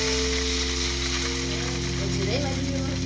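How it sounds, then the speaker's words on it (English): Salmon skin sizzles and pops in hot olive oil, a loud, continuous frying hiss with scattered crackles, while voices talk faintly underneath. "already you can hear the skins popping."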